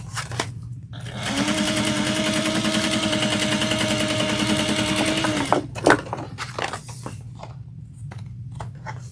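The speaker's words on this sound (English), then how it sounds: "we're going to top stitch down the sides, not only for decorative purposes." A sewing machine top stitching down the sides of a tote runs in one steady, rapid burst of needle chatter for about four seconds, then stops, followed by some handling clicks and rustles.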